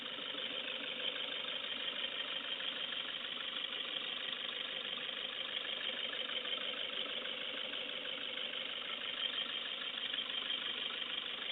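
A Toyota Hiace with a 2KD diesel engine runs at a steady idle, a close, even mechanical clatter and drone that carries on unchanged throughout without speech.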